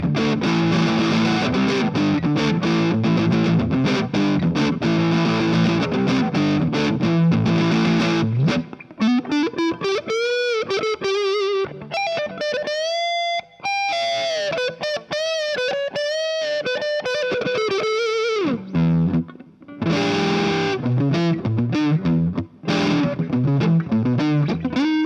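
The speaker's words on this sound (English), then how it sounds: "with some distortion. Here's the neck pickup." Distorted electric guitar on the neck pickup of an Epiphone Les Paul Special II, playing chords and single-note lines, loud and sustained with gritty overdrive, a few brief pauses between phrases.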